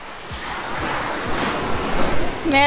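Sea waves wash and roll steadily along a shore, a broad continuous surf hiss with gusting wind noise, swelling slightly louder toward the end.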